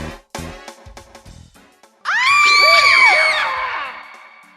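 A person screams loudly over a cockroach in the house, a sustained high shrill yell lasting about two seconds after some scattered thumps and short vocal sounds.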